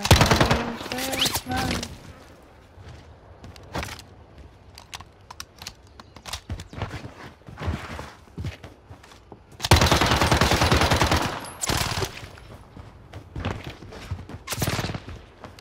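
Video-game submachine gun fire from an Uzi comes in rapid bursts, with a long loud volley around the middle and scattered shorter shots, mixed with keyboard clicks and mouse taps close by.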